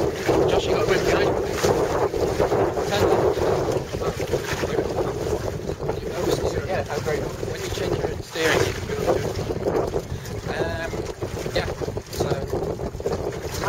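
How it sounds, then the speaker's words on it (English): A wind squall hits while sailing a Miracle dinghy in Carrick Roads, with loud, steady roaring wind buffeting the microphone and water sloshing underneath, and a few brief gusting surges. "It's squalling again now, so watch out."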